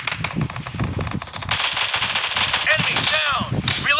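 Rapid gunfire bursts from PUBG Mobile, a loud continuous rattle of automatic shots that intensifies midway, with a man calling out over the shooting throughout.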